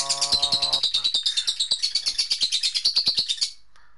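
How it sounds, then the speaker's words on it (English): Songbirds chirp in rapid, evenly pulsed bursts, loud and close, over a brief tonal electronic sound at the start, then the calls stop abruptly near the end. "Excuse my noisy ass birds in the background."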